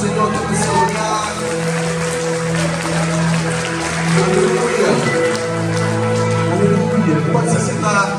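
Congregation applauding in a church service, with dense, steady clapping running throughout and voices and tonal sound carrying over it.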